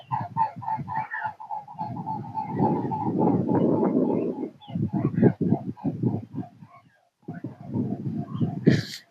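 A flock of swans at Aydarkul lake calls out as it takes flight, honking repeatedly in bursts with a short silent gap, close and fairly loud, mixed with voices talking.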